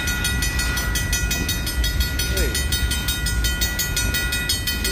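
Steady loud rumble and rhythmic clatter of an oil train rolling past nearby, with high metallic squeals over continuous wheel noise.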